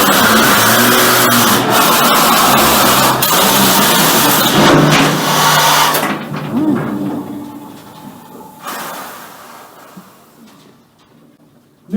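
Machinery roars loudly in a gold mine as a mining machine fills a one-ton ore cart, a dense grinding rumble with clanks that gradually fades and thins toward the end.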